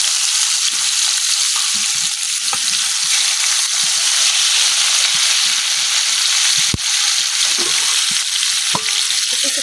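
Eggplant pieces frying in oil in a new wok, a constant loud hiss and sizzle with occasional light stirring clicks, close up and without voices.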